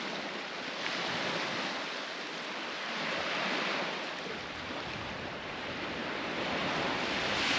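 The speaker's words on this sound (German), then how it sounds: "Und das ist der Strand." Soft, continuous surf washes onto a beach in Greece, heard from a distance as a gently swelling and fading roar with light wind, fairly faint and without voices.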